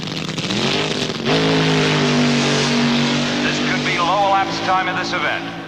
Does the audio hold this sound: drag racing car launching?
yes